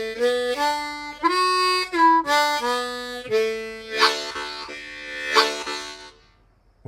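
On harmonica, the second phrase of the folk tune Angeline the Baker is played through in the lower octave, a bright run of reedy notes with a few held chords, moderately close and unaccompanied.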